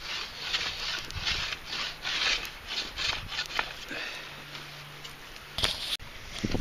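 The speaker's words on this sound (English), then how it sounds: "I might be able to start peeling some of this bark off" Bark is scraped and peeled from a partly dried wooden stickbow, making close, continuous rasping and rubbing strokes with occasional sharper ticks and cracks.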